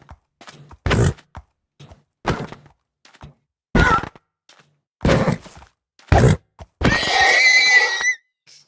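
Horse sounds from the Minecraft video game come as a series of short, loud, separate bursts with silence between them, ending in a longer, brighter whinny-like call. No one talks.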